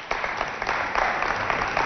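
Brief burst of audience applause welcoming contestants at a cultural centre quiz show, a steady patter of many hands at moderate volume with no speech over it.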